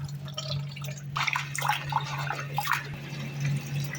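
Lentils being washed in a kitchen, with water splashing and dribbling irregularly over a steady low hum, moderately close and without speech.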